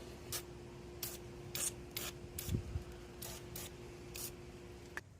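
Penetrating oil sprayed through small holes onto a heat exchanger nut on a Porsche 3.2L Carrera engine: about nine short, quiet aerosol hisses in an uneven rhythm over a steady low hum.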